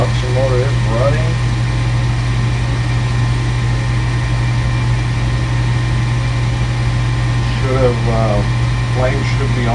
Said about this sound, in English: The induction motor is running.